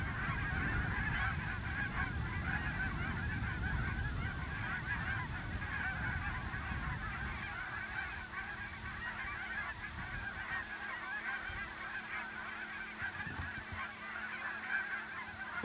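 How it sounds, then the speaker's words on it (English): Flock of Canada geese with a few snow geese mixed in at Swan Lake, honking continuously at moderate distance, a dense overlapping chorus that thins slightly toward the end. "we got the Canadians, and there's a few snow geese mixed in with them out there"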